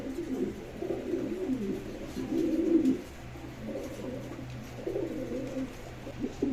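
A pair of blackless shining pigeons coo in soft, low, rolling phrases, close but fairly quiet, with a steady murmur of other birds behind them and no talking.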